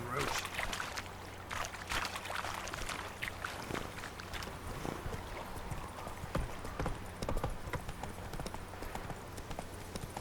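Roach the horse's hooves clip-clop in a quick, steady rhythm in The Witcher 3, close and continuous over soft ambient game sound, with voices talking now and then.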